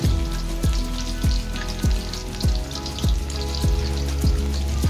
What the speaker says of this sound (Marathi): आता आपण सर्व तेलामध्ये सोडून घेऊया अशा प्रकारे